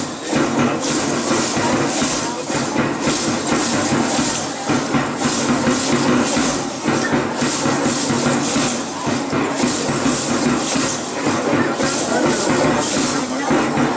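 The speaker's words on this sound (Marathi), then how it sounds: "लेझिममध्ये जलद प्रकार सुरू आहे." Lezim jingling instruments shaken in a fast rhythm by ninth-grade school students at a high school lezim performance, a loud continuous metallic shimmer of rapid, regular beats over a crowd din.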